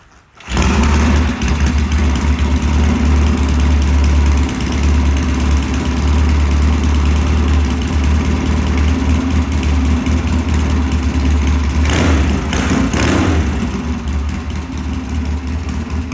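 A 1966 Triumph Bonneville TT Special motorcycle engine catches on a cold start and settles into a loud, steady idle close by, with brief throttle blips near the end and no talking.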